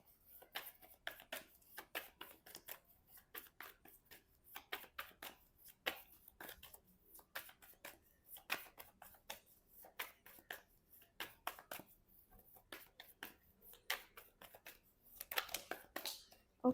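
Tarot cards shuffled by hand during a weekly horoscope reading, a long run of quick crisp riffling bursts and soft slaps close to the listener, with no talking over them.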